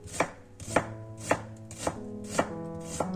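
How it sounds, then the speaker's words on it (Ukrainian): Onion sliced thinly with a knife on a board while making crunchy cabbage; six crisp, evenly spaced chops about half a second apart, close and clear with no talk. "Цибулю також тоненько."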